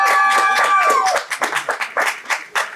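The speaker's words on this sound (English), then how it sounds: "open this panel here with a warm applause." Audience applause welcoming a panel at the AfroCannes 2025 event, loud at first with a tonal musical sting, then thinning into scattered individual claps.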